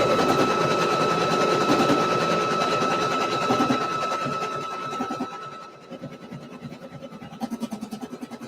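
A sewing machine double stitches a shirt with a steady, close mechanical whir that fades partway through into softer, rhythmic ticking pulses.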